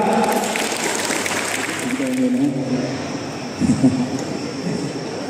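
Crowd applause at the opening ceremony of a Phang Nga volleyball cup, greeting a school dance performance; clapping blends with a loud public-address hum and some voices and tones, fairly distant and washed out.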